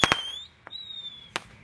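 Roman candle fireworks fire outdoors at New Year, sharp cracking pops with a long whistling tone between them, the bursts spaced irregularly over a quiet background.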